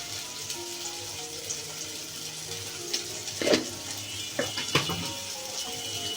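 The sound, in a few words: stirring spinach with chili powder and salt in pan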